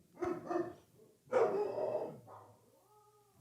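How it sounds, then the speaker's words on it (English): Dogs bark indoors in two short bursts, a quick pair of yaps followed by a longer, louder volley, then the noise fades and quiets. "There the dogs go."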